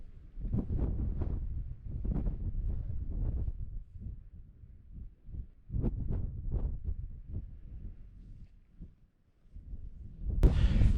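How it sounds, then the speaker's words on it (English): Gusty wind buffets the microphone on an exposed fell ridge in loud, uneven low rumbling bursts, with a short lull before a final strong gust. "it's pretty windy"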